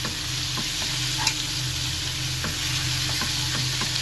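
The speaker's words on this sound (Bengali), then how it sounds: "দু এক মিনিট একটু উপর নিচে ভালো করে মাছগুলো তেল পেঁয়াজের মধ্যে নাড়াচাড়া করে নিই" Prawns stirred through hot oil and onions in a pan for a Bengali ridge gourd and prawn dish: a steady, close sizzle broken by repeated scraping strokes and light clinks of the spatula, with no voices.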